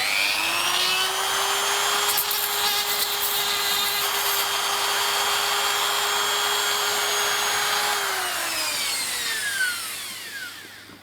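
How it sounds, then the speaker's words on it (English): A power tool shaves down the edges of a wargaming tabletop tree base with a loud, steady whine that holds for about eight seconds, then slides down in pitch as the motor spins down, with no talking over it. "a quick swap of power tools because I want to shave those edges down"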